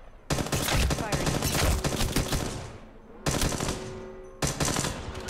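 Automatic gunfire in Apex Legends Mobile, rapid bursts of loud machine-gun shots in two or three sustained volleys with short gaps, dominating the clip without talk.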